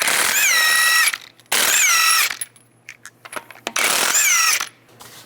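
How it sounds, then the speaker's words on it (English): Ratchet wrench with a 21mm socket removing wheel lug nuts on a 2005-2015 Nissan Xterra, three loud close bursts of rapid clicking ratchet strokes separated by short pauses with small metallic handling noises. "Remove the wheel, take the lug nuts off using a"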